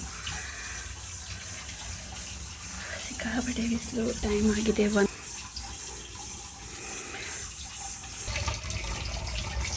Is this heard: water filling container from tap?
yes